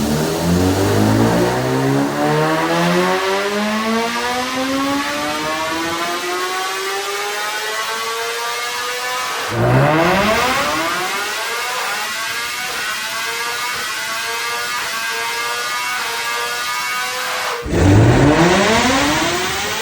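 A 2026 BMW M1000RR superbike at stage 2 tune on a dyno, running MR12 fuel, revs hard through the gears in three long sweeping pulls, each rising to a loud scream before dropping back.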